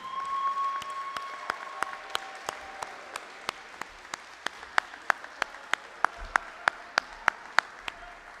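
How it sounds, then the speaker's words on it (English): Graduation audience applauds the 2023 valedictorian: evenly spaced, crisp claps stand out close by, steady and rhythmic, over a soft wash of crowd noise for about eight seconds. "please join me in giving a warm round of applause to our 2023 valedictorian"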